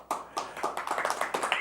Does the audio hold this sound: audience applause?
yes